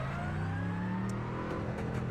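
A Mercedes GT3 race car in a driving game drones at a steady mid-pitched engine note on the Road America circuit, holding constant with no revving changes across two seconds.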